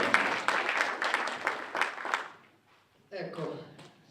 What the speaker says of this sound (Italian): a Paolo Pedraz, a cui tributiamo un giusto applauso